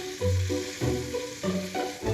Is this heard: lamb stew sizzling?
yes